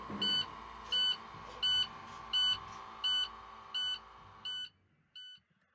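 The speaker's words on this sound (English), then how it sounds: "There you have the ignition sounds." Ignition beeps on a Cummins-powered Palm Beach transit bus: eight evenly spaced electronic tones, each about a third of a second long, repeating steadily before stopping, with no talk over them.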